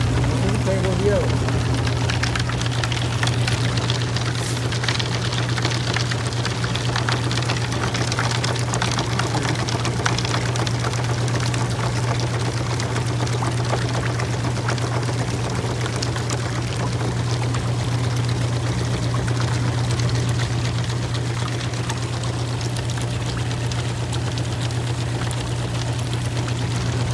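Fast river water rushes over rocks and a diagonal gravel bar at a dredging spot, a steady loud broadband wash with a constant low hum beneath, while someone talks faintly over it.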